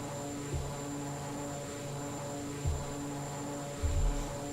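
A propeller aircraft engine drones at a steady pitch inside the FSX flight simulator during a climb, with a few brief thumps breaking the constant hum.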